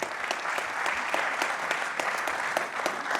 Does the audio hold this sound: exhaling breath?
no